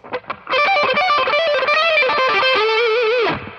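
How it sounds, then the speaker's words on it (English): After a couple of muted picks, an electric guitar heavily boosted by a Spark Booster pedal plays a fast, gritty lick ending on a held, bending note that stops sharply. "Now here's what it sounds like with the Spark Booster."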